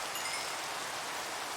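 Steady rain falling in the video game Minecraft, a dense even hiss with no breaks, heard alone.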